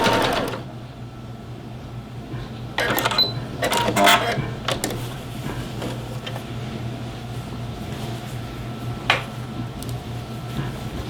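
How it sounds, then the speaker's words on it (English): A home sewing machine runs steadily, stitching a 45-degree angle across the top of a garment placket, a continuous close mechanical whir with a few brief clicks and handling noises, no talking. "And just sew a 45-degree angle across the top."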